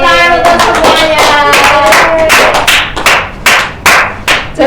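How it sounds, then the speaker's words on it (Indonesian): Loud, close clapping in a primary school classroom during a microteaching lesson, children's rhythmic hand claps in quick bursts, mixed with a few voices at the start and then sharp, evenly spaced claps. "tepuk tangan untuk semuanya"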